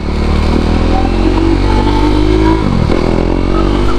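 KTM Duke 390 motorcycle engine revving up loudly and steadily nearby, with a brief dip in pitch as the throttle drops and climbs again near the end.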